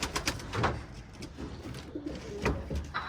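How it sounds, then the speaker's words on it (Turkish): Pigeons in their loft, about to be released for a flight, coo close by in soft repeated calls over a low rustling background. "Şimdi kuşları açacağım"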